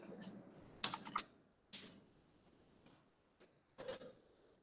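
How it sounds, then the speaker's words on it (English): Computer keyboard typing, a handful of faint, sparse key clicks spread out with short pauses between them, quiet and close in an otherwise calm room. "See, I am continually typing."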